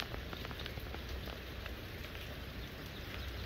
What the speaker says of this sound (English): Don't mind the rain, I'll be wiping off the lens a lot for this one.